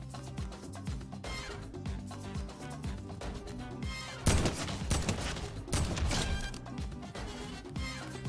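Rapid bursts of AK-47 automatic rifle fire in a video game crack out loudly over a steady musical background, with heavier volleys around the middle and later, fired while moving.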